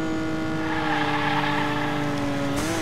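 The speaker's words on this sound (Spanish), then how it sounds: "Los derrapes es súper importante por lo que estoy viendo." A toy car drifting through a corner in the racing video game Hot Wheels Unleashed gives a steady, close, whining engine tone that holds throughout and shifts pitch slightly near the end.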